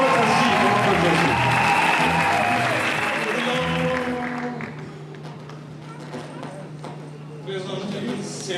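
A church congregation at a certificate ceremony for an apostle bursts into loud applause and acclaim, a dense wash of clapping that fades after a few seconds into quieter murmuring and shuffling, with a voice speaking over it.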